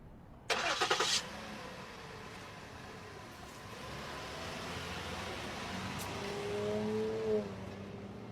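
A bus engine in the Minecraft video game starts with a short burst of cranking, then settles into a steady idle that swells slightly near the end, loud and close, with no voices.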